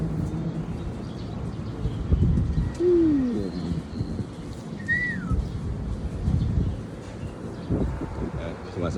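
Pigeons call with a couple of sliding whistle-like coos among the flying young birds of a loft, set over outdoor background noise with faint voices nearby.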